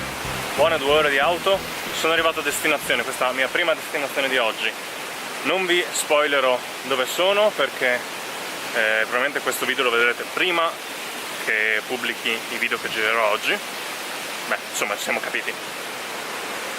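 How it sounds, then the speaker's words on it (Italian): Mountain waterfalls and flowing water make a steady broadband rush that runs throughout beneath someone talking continuously close by. "il rumore che sentite vicino a me sono cascate, acqua"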